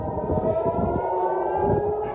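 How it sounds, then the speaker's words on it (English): A steady, wailing air raid siren in Tel Aviv drones continuously at a distance, a sustained tone with no voices over it. "air raid sirens sent people fleeing to shelters."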